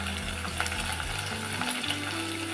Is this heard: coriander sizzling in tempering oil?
yes